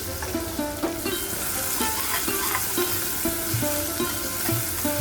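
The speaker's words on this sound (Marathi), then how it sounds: "एक कांदा घेतला आहे मी कापून बारीक, फोडणी घालते." Finely chopped onion sautés in hot oil tempered with asafoetida and curry leaves, a steady close sizzle with rhythmic stirring scrapes, while soft music plays beneath.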